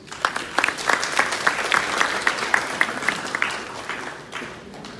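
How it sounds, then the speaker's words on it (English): Applause at the Palanca Awards 2018 ceremony as an audience claps loudly and close, with crisp individual claps building into a full round and then tapering off toward the end. "A warm round of applause."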